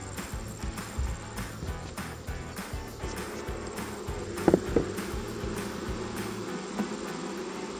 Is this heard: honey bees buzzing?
yes